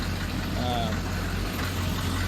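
A wide GMC diesel truck idles steadily with a low, continuous rumble, running warm with low oil pressure and unburnt diesel smoke; faint background noise and possible voices sit under the engine throughout.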